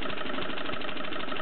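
A small Bowman M167 stationary engine running with a saw table, a steady mid-pitched putter with regular firing pulses, close and continuous with no talk.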